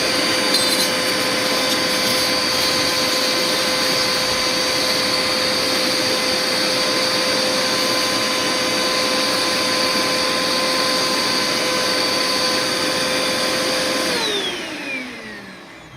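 A Dirt Devil Endura Max vacuum cleaner motor, its shaft exposed during a belt replacement, runs with a loud, steady whine and hum, then spins down near the end.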